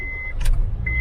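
Inside a Honda Jazz on a rainy day, a short sharp burst sounds as someone gets in, while a steady electronic tone from the car briefly stops and then resumes.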